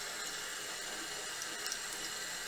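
Running water rinsing a makeup brush under a tap during cleaning with Bobbi Brown Conditioning Brush Cleanser, a steady close hiss of flowing water filling the whole moment with no talk.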